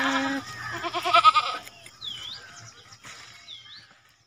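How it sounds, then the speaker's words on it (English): A goat bleats loudly and close at the start, then a few fainter bleats and chirps follow as the sound fades. "G for goat. G for goat."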